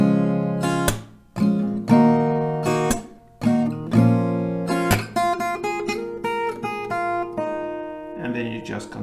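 An acoustic guitar plays the melody of a song over a chord progression starting from C, with ringing strummed chords broken by short pauses and a few muted strokes near the end.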